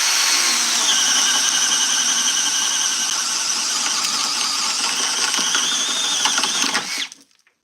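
Milwaukee M12 sub compact drill driving a 1-inch bit into wood until it splits, a steady high mechanical whir running continuously, close and loud, before cutting off abruptly near the end.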